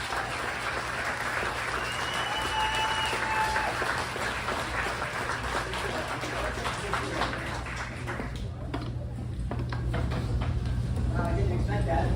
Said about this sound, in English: give him your biggest warm of applause